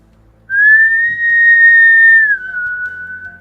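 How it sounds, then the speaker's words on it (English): A person whistles a single sustained, steady note down a cave entrance, held for about two seconds before dropping slightly lower and trailing off, clear and close against a quiet background. "Catriona just whistles down the cave entrance."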